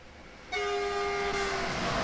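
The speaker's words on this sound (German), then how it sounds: "Positionieren wir uns mal irgendwo hin, wo wir mal den Zug an uns vorbeilassen, vorbeifahren lassen können." A BR 101 Intercity train in the Train Sim World 3 video game passes close by, its loud, steady horn tone starting abruptly and held over a rushing roar of the moving train, with no talk.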